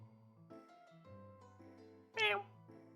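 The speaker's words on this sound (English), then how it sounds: "You chose to pet Grandpa's cat and start walking toward it." A cat meows once, loud and close, in the video game Thought Experiment Simulator, with a game music bed playing steadily around it.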